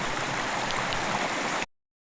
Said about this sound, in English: So that creek we crossed goes down a little fall here